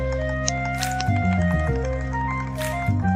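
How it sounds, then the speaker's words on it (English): Synthesized music from the Jimmy and the Pulsating Mass game soundtrack plays with a looping low bassline and soft, echoing electronic tones, moderately loud and without voices. "This entire game soundtrack is just kinda good."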